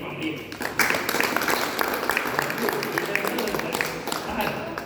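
Applause in a temple, a crowd clapping with a dense patter of hands and sharper individual claps under it, moderately loud and continuous, with voices mixed in.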